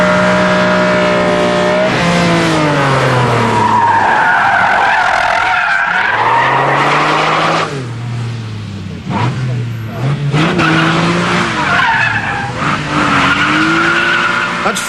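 A Ferrari test car skids hard with sustained, loud tire squeal, its engine revving and changing pitch through repeated slides, the screeching wavering and rising close by.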